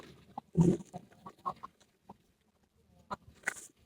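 Hybrid farm chickens clucking nearby, a string of short throaty clucks and a few higher squawks with brief pauses in between.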